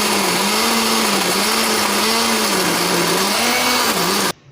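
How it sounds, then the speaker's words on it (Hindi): A kitchen blender grinds a mixture of vinegar, soy sauce and water in one loud, steady whir with a faintly wavering motor pitch, running without pause and then cutting off abruptly at the end. "अब इसको हम ग्राइंड करेंगे।"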